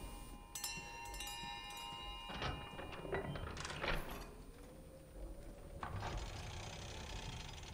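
A portrait door in the Resident Evil Village video game opening after five bells are rung, with heavy mechanical thunks, scraping and grinding of a sliding mechanism and a faint ringing tone over a few seconds.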